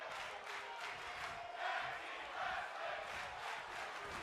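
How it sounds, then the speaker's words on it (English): A video game wrestling arena crowd chants and roars during a tag team match, a faint, distant, steady wash of rhythmic crowd voices with no commentary over it. "Crowd chanting tag team wrestling."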